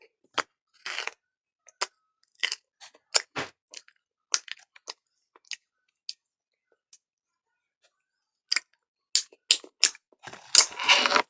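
Close-up crunchy chewing of a snack, with sharp bites and crackles in irregular bursts separated by quiet pauses, and no talking.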